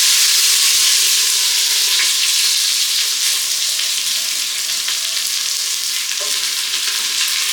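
Two full red onions fry in a pan over browned garlic, giving a loud, steady sizzle that holds throughout with faint stirring scrapes, close by and with no voices.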